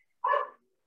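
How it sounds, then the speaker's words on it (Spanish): A small dog gives one short, sharp bark, close and clear against an otherwise quiet background. "Ahí hay un perrito también. Él está queriendo participar también."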